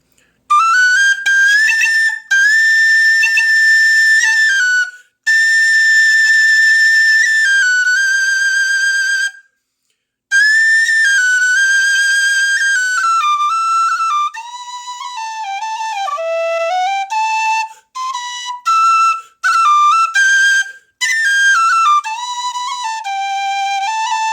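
A soprano D tin whistle (Busker model) plays a sustained, breathy high melody, held notes then faster runs, with a few short pauses between phrases.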